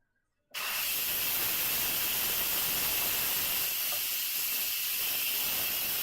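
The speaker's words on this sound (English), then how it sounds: "So you can see the steam coming out now." Instant Pot on quick release while cooking beef bourguignon, venting steam in a sudden loud hiss that starts after a moment of silence and holds steady and close.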